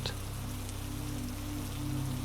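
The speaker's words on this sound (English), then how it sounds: "Rain on the roof, rain in the courtyard." Rain falls steadily on a mountain monastery's roof and courtyard, a soft, even hiss with a low hum beneath it throughout. No voices are heard.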